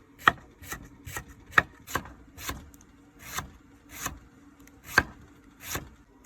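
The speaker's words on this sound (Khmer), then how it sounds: "ត្រយងចេកនេះខ្ញុំយកវាមកហាន់ស្ដើងអញ្ចឹង" A knife thinly slices banana blossom on a cutting board in close, crisp chopping strokes, about a dozen evenly spaced over several seconds, with no voices.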